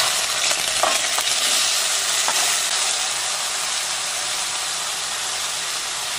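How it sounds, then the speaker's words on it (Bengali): Taro pieces lightly frying in oil for a lentil and greens curry, a steady, close sizzle and hiss that holds level throughout, with a few faint stirring clicks early on. "এবার দেখুন এটা আমি কচুটা হালকা করে ওতে ভেজে নেব।"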